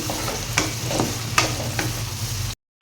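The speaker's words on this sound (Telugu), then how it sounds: "జస్ట్ ఇలా ఆయిల్లో మూత పెట్టకుండా ఈ వంకాయలు అనేవి మెత్తగా మగ్గేంత వరకు మగ్గిస్తే సరిపోతుంది" Brinjal pieces fry in oil in an open pan, a steady close sizzle with occasional stirring scrapes, ending abruptly in silence.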